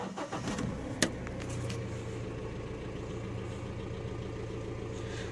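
A 49 hp JCB loader's diesel engine cranks with a sharp click and settles into a loud, steady rumbling idle with a heavy low drone close by.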